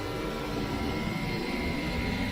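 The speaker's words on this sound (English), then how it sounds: "Bringing the 707 around in behind the 727." Boeing 707 jetliner taxiing behind a 727 in Flight Simulator X, a steady, continuous jet engine roar and whine held at an even level throughout, with no talk.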